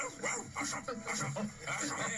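A dog nearby makes a run of short whimpers and yips in quick, uneven bursts, fairly loud, with faint voices mixed underneath.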